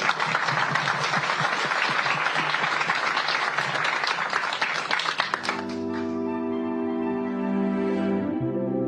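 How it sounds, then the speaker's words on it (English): A seated audience at a panel discussion applauds, with dense, loud clapping for about five seconds before it cuts away to a steady sustained musical tone. "I suggest that we give them a big applause."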